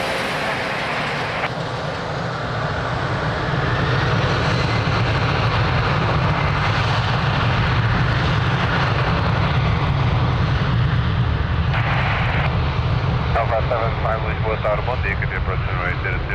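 An airliner taking off from runway 02 at Lisbon Airport, a loud sustained jet engine roar that holds and builds steadily, with radio chatter cutting in over it.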